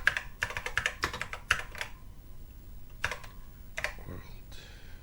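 Keys tapped on a Texas Instruments TI-99/4A home computer keyboard, quick bursts of clicks in an irregular rhythm with pauses between, close and clear over a low background hum.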